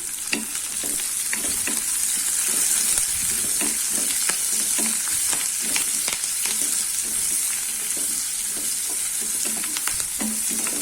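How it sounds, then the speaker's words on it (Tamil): Onions sauté in a pan for a chana dal kurma, a loud, steady sizzle broken by frequent spatula stirs and scrapes over about ten seconds, with no one speaking. "இது வெங்காயம் ஓரளவுக்கு வதங்கட்டும்"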